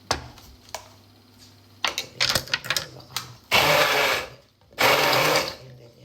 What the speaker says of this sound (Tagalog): yung blender na pang juice, pang smoothie, pwede yun